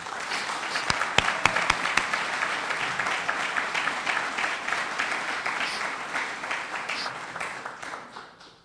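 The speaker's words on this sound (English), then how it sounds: "Can we have a round of applause for Plumbondon?" An audience at a public information briefing applauds steadily for several seconds, a dense wash of clapping with a few sharp individual claps early on, fading out at the end.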